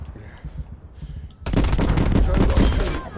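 Gunfire in Call of Duty erupts into dense, rapid overlapping shots after a quieter opening of scattered distant pops, loud and continuous through the end, with a player taking fire from behind.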